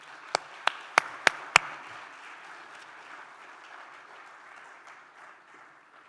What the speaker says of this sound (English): please help me with a round of applause to welcome architect Marina Tabassum.